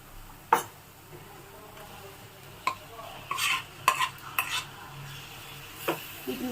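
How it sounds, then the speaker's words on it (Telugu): Prawns with ginger garlic paste are stirred and fried in a pan for a prawn and egg curry, with sharp spoon-against-pan scrapes and clinks at irregular intervals over a faint background sizzle, close and with no talking. "బాగా కలుపుకొని వేయించుకోవాలి"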